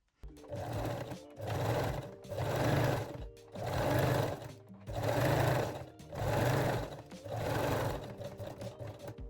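A sewing machine stitches elastic onto a bralette neckline in six steady bursts of loud mechanical whirring, each a second or so long, separated by brief pauses, close up with no voices.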